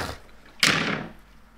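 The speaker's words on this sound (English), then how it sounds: "Always slamming doors in men's faces." A door slams at home, a single sharp, loud bang midway that decays quickly into a short echo in an otherwise quiet room.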